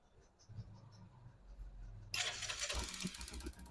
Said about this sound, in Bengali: তা দেখতে পাচ্ছেন আমাদের বাইকটা কিন্তু স্টার্ট হয়ে গেছে অলরেডি